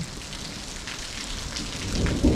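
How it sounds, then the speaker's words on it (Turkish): Steady hiss of spring rain falling in a village, a dense even patter that swells slightly louder toward the end, with no voices. "Bahar yağmurları."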